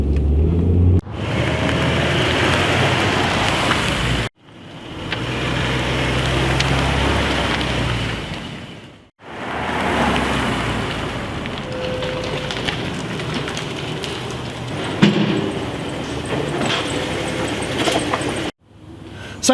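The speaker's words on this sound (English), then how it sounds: "let's just drive this Hyundai and see what this road test reveals" A Hyundai car on a road test with a hard right pull from a tire: steady broadband road and tire roar inside the moving car, broken by a few brief drops to near silence, with no talk.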